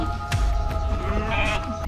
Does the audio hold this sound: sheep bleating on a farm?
yes